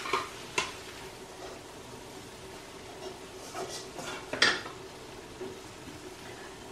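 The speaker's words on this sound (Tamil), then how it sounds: "வறுபட்ட மாவை இந்த பிளேட்டுக்கு மாத்திட்டோம்" Roasted flour for Mysore pak being scraped from a pan onto a plate, with soft scraping and stirring strokes and a few light metallic clinks, quiet and close with a faint background hum.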